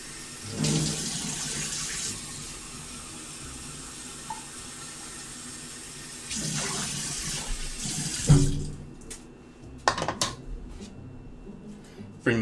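Kitchen tap water fills a measuring cup in two steady, hissing bursts separated by a quieter stretch, followed by a few clunks and knocks as the flow stops.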